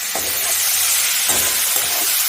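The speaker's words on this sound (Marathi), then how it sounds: "एक मिनिटभर याला परतून घेऊया" Vastuka (bathua) greens sauté in a hot pan, giving a steady, close frying sizzle and hiss with a few soft stirring scrapes throughout.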